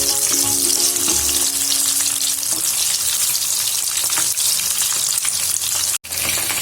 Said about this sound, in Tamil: இப்போது சிக்கன் 65 வந்து நல்லா ஃப்ரை ஆயிடுச்சு